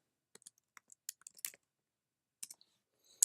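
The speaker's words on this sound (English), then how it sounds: "we could type in goo.gl and buy here" Clicks and taps of typing on a computer keyboard, a few scattered keystrokes followed by a quick burst of several keys, then a pause and a couple more presses, close and fairly quiet with no talking.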